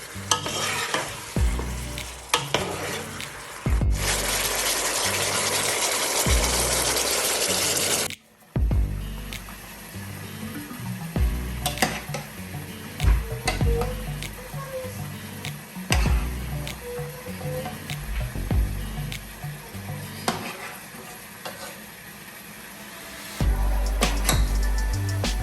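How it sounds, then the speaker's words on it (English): Spoon stirring Ghanaian chicken soup with tomato puree in a pot, a steady close scraping and sizzling with frequent small clinks and knocks throughout, a brief louder rushing burst early on, no talking. "So I'll just give it a stir."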